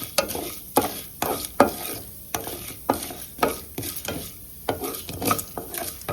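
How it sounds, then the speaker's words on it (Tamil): Mustard seeds and urad dal frying in hot oil while being stirred, a steady sizzle broken by repeated close scraping strokes of a spoon against the pan. "இதில் கடுகு உளுத்தம் பருப்பு போட்டாச்சு இது நல்லா வத ஃப்ரையாகட்டும் நல்லா வதங்கட்டும்"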